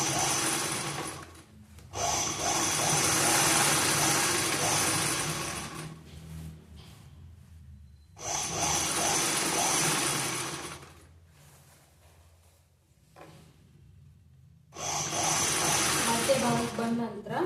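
A sewing machine runs in long bursts while stitching an unlined blouse, whirring steadily for several seconds at a time with quiet pauses between runs, close and fairly loud.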